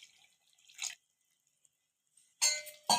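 Water poured into a pan of fish masala curry, two short splashy pours close by, alone after a brief drip-like sound.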